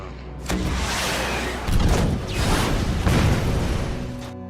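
Grenade launcher fire and an explosion in a Ghost Rider film scene: a sharp bang, then loud, sustained rumbling blasts with booming low end that fill the whole clip.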